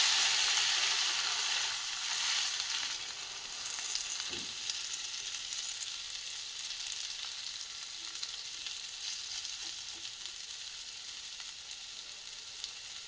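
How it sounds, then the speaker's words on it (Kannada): Thalipeeth flatbread fries in a pan with a steady, bright sizzle that starts loud and settles to a constant hiss, with an occasional faint scrape. "ಈಗ ತಾಲಿಪೆಟ್ಟನ್ನು ಹಾಕೋಣ."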